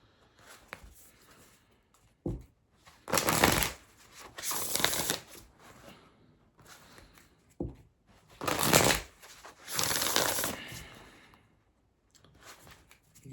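Earth and Bone Oracle cards are shuffled up close in several bursts of riffling, with quiet pauses between them and no talking.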